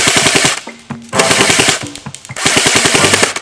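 A CYMA M1A1 Thompson airsoft gun fires on full auto in three long, very loud bursts of rapid, even rattling shots, separated by short gaps.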